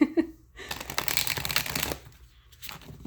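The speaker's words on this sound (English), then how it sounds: "shuffle them real quick so you can see how they shuffle" Oracle cards are shuffled in a quick riffle of soft flapping and rustling, preceded by a brief clatter.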